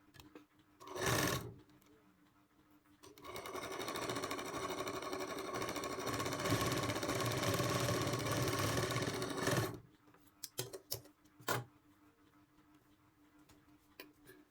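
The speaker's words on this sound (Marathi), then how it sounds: "शिलाई घट्ट बसली लागलीच दोन शिलाई मागून घ्यायची डबल शिलाई" A sewing machine runs in one long steady burst while double-stitching a katori blouse, preceded by a short whir and followed by scattered clicks and handling noises, close and clear.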